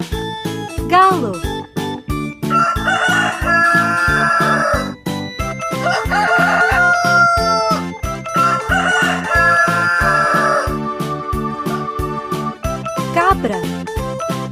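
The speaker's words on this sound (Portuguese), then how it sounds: "Galo." A rooster crows several times over a steady, bouncy children's music track with a regular beat, the calls standing out clearly above the backing.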